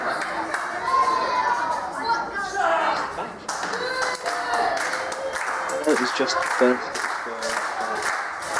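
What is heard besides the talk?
wrestling crowd cheering and clapping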